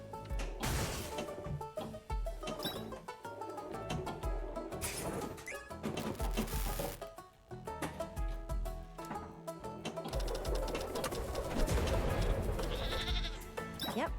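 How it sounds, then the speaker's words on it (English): Goat bleats in the Goat Simulator Pinball video game, rising over dense, loud game music and clattering pinball sound effects throughout. "Yep, you sound like a goat."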